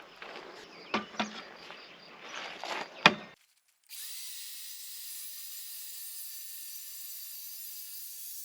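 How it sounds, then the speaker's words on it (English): Wood is worked by hand with scraping and knocks, then after a short silence a power sander starts up on the wood piece and runs as a steady, even hiss. "I'm gonna sand it up, and then we'll finish it off in a minute."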